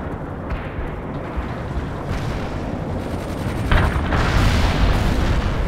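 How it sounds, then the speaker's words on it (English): Bradley armored vehicle firing in World in Conflict combat: dense, continuous booming gunfire and blasts under sustained battle noise, rising louder toward the end. "Bradley returning fire at hostiles"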